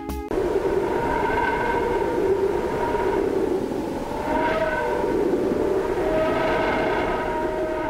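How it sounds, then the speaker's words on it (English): Solar wind recorded by the Parker Solar Probe and rendered as sound gives a constant whoosh, with sustained whistling tones that waver and glide in pitch, swelling around the middle and again near the end. "What we're hearing is the solar wind. That's the whooshing and whistling noises."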